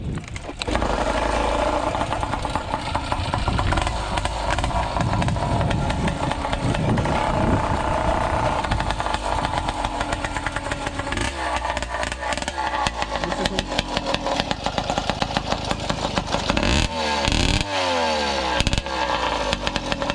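A small two-stroke case-reed motorized bicycle engine with a ported cylinder runs loud and close, sputtering and stuttering unevenly at idle without throttle, its rough putter wavering and surging without settling.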